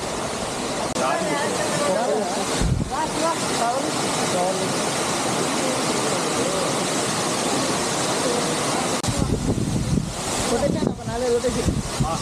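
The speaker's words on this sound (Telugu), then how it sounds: "సో ఇట్లా వాటర్ ఫ్లో అయితే పోతుంటుంది" Water from the Sarugudu falls near Tuni pours over rocks in a continuous, dense rushing roar, close and steady, with bursts of wind buffeting the microphone.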